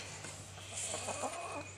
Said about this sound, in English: the noise you're hearing are my chickens.